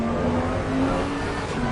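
Racing engine of a V8 GT3 race car in Assetto Corsa Competizione at Zandvoort, a loud, steady droning roar with a sustained pitch, close and continuous with no talk over it.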